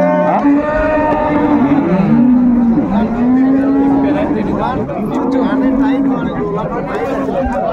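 Dairy cow lowing at a crowded rural cattle market in Dinajpur, several drawn-out moos rising over constant loud chatter and crowd babble, with people talking nearby.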